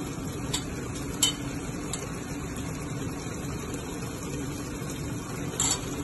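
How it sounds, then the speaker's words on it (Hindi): Ground spices with salt, chilli, coriander powder and garam masala being roasted over a high flame for butter chicken, a steady low sizzle with a few light clinks of a spoon against the pan. "चूल्हा तेज करके इसको हम भून रहे हैं"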